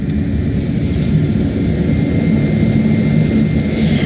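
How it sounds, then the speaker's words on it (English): A laboratory centrifuge set to 3,000 rpm for a 10-minute run starts up with a loud, steady, low whirring drone that holds evenly throughout, with no talking. "So now I'm going to start the centrifuge."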